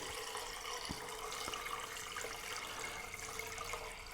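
Water poured into a flower container for a dahlia arrangement, a steady close trickle and splash running throughout with a couple of faint knocks, no talking.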